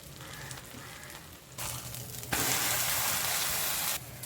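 Aloo paratha fries in butter on a pan with a steady sizzle that swells louder partway through and holds as a dense, close crackle before easing slightly at the end.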